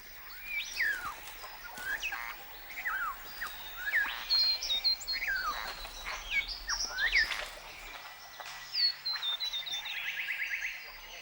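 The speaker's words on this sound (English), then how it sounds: "the chorus of birdsong" Many birds sing in a forest, with repeated rising whistles and chirps from several directions, some near and some farther off, forming a steady chorus over quiet ambience.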